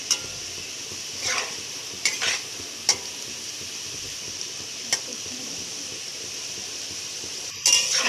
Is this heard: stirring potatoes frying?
yes